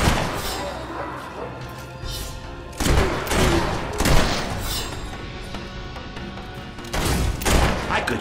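Gunfire in the Fable 3 video game as soldiers are shot, with dense repeated blasts and crashing impacts over a continuous noisy battle din, loudest in bursts near the start, middle and end, with no talking.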